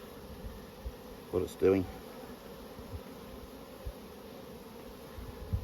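Honeybees buzz steadily in an open, queenless hive in Nymboida, a low continuous hum with a brief spoken phrase over it.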